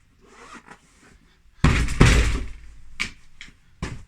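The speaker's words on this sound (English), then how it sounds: "Do up your zip," A zip on a fabric cushion cover is pulled closed, with a few soft rasping tugs followed by one louder, longer zipping stroke and a couple of short final pulls.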